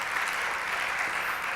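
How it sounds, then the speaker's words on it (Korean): Audience applause at a church sermon, a steady wash of many hands clapping with no pause and no voices. "박수 한번 쳐주세요."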